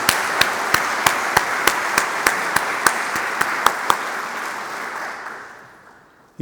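Audience applause at the close of a faith-in-the-academy session, dense clapping with a few sharp louder claps, steady and fairly close before fading out over the last seconds.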